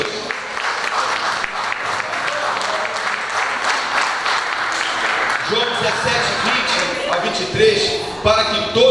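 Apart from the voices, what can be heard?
church congregation applauding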